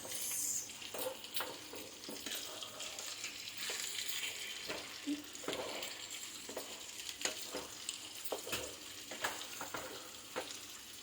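Chicken frying in a pan as it is stirred, a continuous soft sizzle broken by frequent scraping and clinking from the spoon, close and fairly quiet, with no talking.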